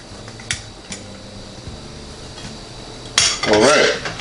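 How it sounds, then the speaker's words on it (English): Cutlery and plates clinking while pizza baked on a pizza stone is sliced and plated, a few light taps early on, then a louder burst of scraping and clattering near the end. "now I'm going to plate a slice of each"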